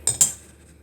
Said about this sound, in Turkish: Şimdi bu bir kaşığımızla şeker alıyoruz